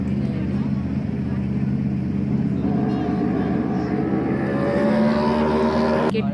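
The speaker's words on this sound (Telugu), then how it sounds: "ఈరోజు మేము ఇక్కడ కార్ రేసింగ్ దగ్గరికి వచ్చాము." Racing cars at a car racing league event by Tank Bund in Hyderabad make a loud, continuous engine roar. Rising, whining tones swell over it as cars pass, and crowd or voices may blend into the steady din.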